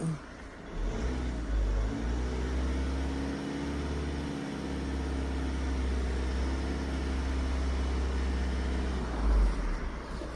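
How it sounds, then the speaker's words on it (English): A Volkswagen Caddy engine revs up steadily from idle and holds at a raised, constant drone for several seconds, close and fairly loud with no speech over it. "So what I'll do is we'll rev it up a little bit."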